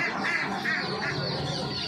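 Rapid, overlapping quacking from a group of ducklings at a bird shop, steady and fairly close, with no talking.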